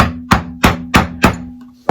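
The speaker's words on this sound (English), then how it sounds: "I'm going to turn the chisel around so the bevel's now pointing me, towards me, and just break up the surface there" A wooden mallet strikes a chisel five or six times in a steady rhythm, each a sharp close knock, chopping a mortice by hand in wood.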